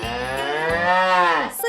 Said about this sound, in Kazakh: Бұл сиыр.